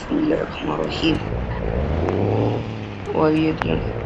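A lorry in a driving video game pulling away, its engine revving up in rising tones under someone talking throughout.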